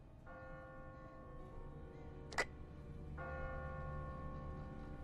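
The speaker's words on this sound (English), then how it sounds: "Is that you up in the bell tower?" A church bell tolls once in The Walking Dead game, a sharp bright strike that rings out over a steady low game ambience and sustained tones.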